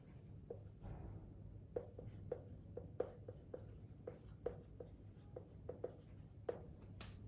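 Pencil drawing an engineering projection on paper, a quiet close scratching with a series of sharp taps and strokes at an irregular rhythm as lines are ruled, no talk.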